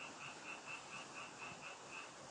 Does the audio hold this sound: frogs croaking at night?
yes